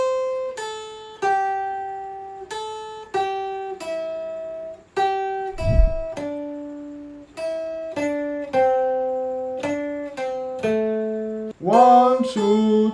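A pentatonic scale is played as a run of clean, plucked single notes in three-note groups, each note ringing briefly and stepping through the pattern steadily, ending with a denser strummed flourish.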